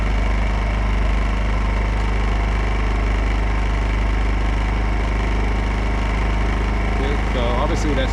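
A Champion 2500 dual fuel inverter generator, model 201183, running on propane: a steady, loud engine drone with a constant low hum and no breaks, close by, holding a smooth, even speed throughout.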